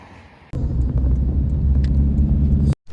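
Interior rumble of a taxi car riding through Ashgabat, a loud low steady road and engine drone that cuts in abruptly, holds for over two seconds, then drops away suddenly.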